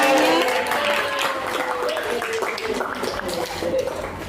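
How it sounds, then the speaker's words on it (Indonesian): Classroom applause from a group of students, steady clapping filling the whole stretch with voices mixed in underneath. "Oke, tepuk tangan untuk semuanya."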